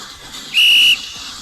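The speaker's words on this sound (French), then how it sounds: "Le coup de sifflet retentit." A single sharp whistle blast, about half a second long and loud, signals the start of sports at a holiday camp, standing alone over faint background noise.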